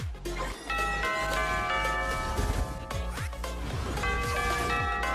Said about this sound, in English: Where are the bells coming from?